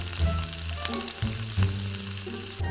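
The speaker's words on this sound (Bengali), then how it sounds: "বৌদি মাটন রান্না করছে" Mutton frying in a pan, a loud steady sizzle with bursts of crackle and stirring clatter throughout, close up with no talking.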